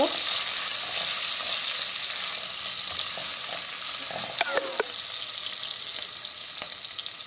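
Onions frying in oil until brown for a chicken curry, a dense, bright, steady sizzle that stays loud and close throughout, with a brief cluster of light clinks and scrapes midway and no speech.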